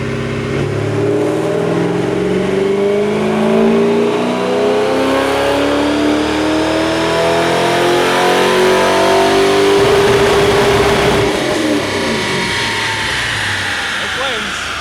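A C5 Corvette engine on a dyno with an MSD two-step set at 6,000 RPM revs hard, a loud close roar climbing steadily in pitch and holding near the limiter, with a voice faintly under it.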